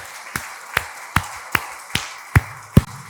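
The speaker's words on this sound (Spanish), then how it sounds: "Dele un fuerte aplauso al Señor." Church congregation clapping in a slow, steady rhythm, seven distinct claps spaced about every four tenths of a second, fairly close and clear over a quiet background.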